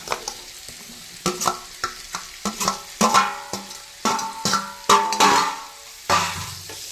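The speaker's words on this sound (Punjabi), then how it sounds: "ਤੜਕਾ ਵੀ ਭੁੱਜ ਗਿਆ ਹੁਣ ਇਹਦੇ ਵਿੱਚ ਪਾ ਦਿੰਦੇ ਅਸੀਂ ਤਰਬੂਜ" Watermelon rind dropped into a sizzling tempering in a pan for a Punjabi vegetable dish, giving a series of sharp stirring clatters and bursts of frying sizzle that rise and fall close by, with no talk.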